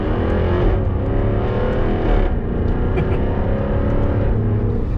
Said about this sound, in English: it's the shift points in the exhaust note at the same time.